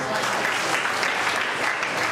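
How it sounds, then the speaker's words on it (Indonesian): A church congregation claps steadily and evenly throughout, a dense wash of applause from a roomful of people with no pauses. "Beri tepuk tangan."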